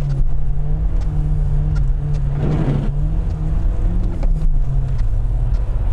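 A BMW 318ti Compact, a car used in autoslalom and capable of 215 km/h, accelerates with a loud, steady engine drone; a low engine note holds throughout with a brief rise in the middle, no talk.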